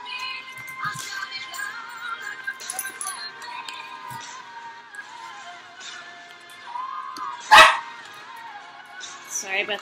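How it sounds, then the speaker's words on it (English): Several pet dogs barking indoors in bursts, with one sharp loud bark near the end, heard under music and a person talking. "Sorry about the barking, that's from my dogs."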